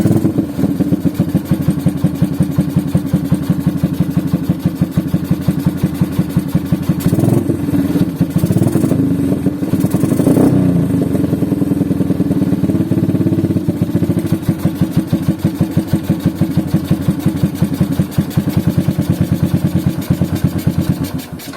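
A cafe racer motorcycle project's engine fired up by the electric starter, then a loud, close, steady idle with rapid even pulses and a brief rev in the middle.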